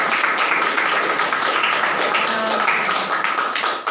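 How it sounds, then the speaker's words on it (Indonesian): Sustained applause from a classroom group, many hands clapping steadily and fairly loud throughout before tapering off at the end. "Kita beri aplaus untuk kelompok 3."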